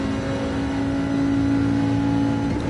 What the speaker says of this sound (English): Nice V10 engine